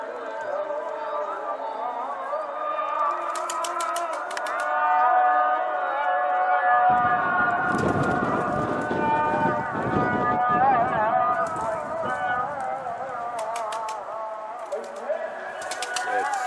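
A drawn-out, melodic call to prayer rings out over loudspeakers, with pigeons cooing and a murmur of people nearby.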